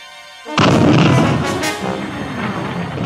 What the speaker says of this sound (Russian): как только ось ствола пушки совпадала с осью прицела, автоматически происходил выстрел